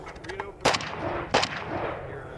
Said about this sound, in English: Trying to brace the rifle here to give me just a little more support going after some of those longer targets down range.